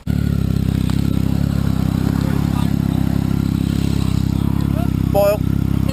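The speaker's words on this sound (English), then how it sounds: "Yeah, Stu, start your bike up" A motorcycle fitted with an aftermarket exhaust runs loud and close for the whole stretch, a deep steady rumble with a short rising whine near the end and faint voices in the background.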